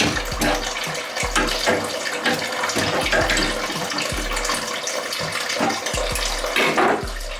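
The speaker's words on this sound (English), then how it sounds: "I can hear water backfilling into the water heater." Water rushes and gurgles as it backfills into a Vaillant water heater after a flow turbine repair, with thumping knocks in the pipes at a roughly regular pace and a loud, continuous hiss throughout.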